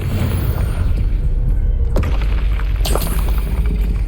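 Spell explosions from Bombardo and Confringo in the video game Hogwarts Legacy: loud, continuous booming rumble with deep low-end weight, punctuated by a couple of sharp bursts near the middle, no voices over it.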